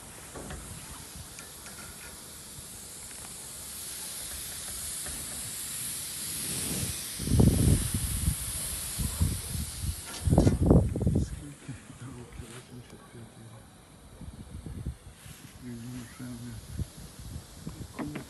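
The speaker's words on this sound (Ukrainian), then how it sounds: "перекусив трубку і вона ще шипить" A steady hiss of refrigerant escaping from a cut tube on a 1985 refrigerator runs throughout, with a few louder bursts of rustling and knocking midway; no clear talk over it.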